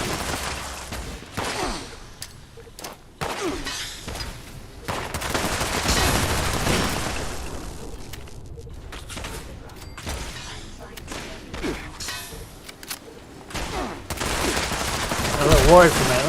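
Armor-piercing weapons fire in bursts from two directions in Fallout 76, with rapid shots, thumps and crackling volleys, loud and close with gaps between bursts.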